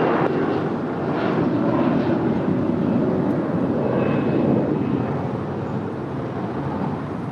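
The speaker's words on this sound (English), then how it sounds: "Next departure on 25 right is American Airlines Flight 669 heading to Chicago O'Hare." An American Airlines Boeing 737-800 departs on runway 25 right, a loud, sustained broadband jet engine roar that holds steady for several seconds and eases slightly toward the end, with no voices.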